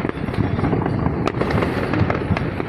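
Fourth of July 2024 fireworks in the New York area crackle and pop in dense, rapid bursts, with a sharp louder bang partway through, heard from moderate distance with no talk.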